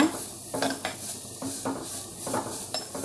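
Grated carrot sautéing in ghee in a pan for payasam, with a spoon scraping and stirring in uneven strokes over a faint sizzle, close by and with no talking.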